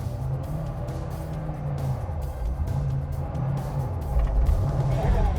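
A rally car at a stage start in first gear revs up and pulls away; the engine note rises and falls, then swells as it moves off, with people talking over it.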